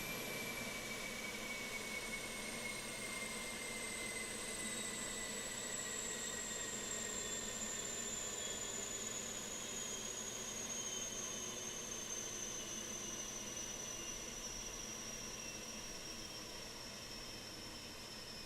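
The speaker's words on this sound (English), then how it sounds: "Let's see if we hear the APU spooling down." A steady, whining turbine hum from an Airbus A320 APU in a flight simulator slowly descends in pitch as it winds down, with a constant airy rumble underneath.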